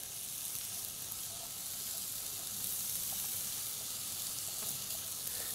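Onions fry in a pan with a steady, soft sizzling hiss, close and continuous, with faint crackles and no talking.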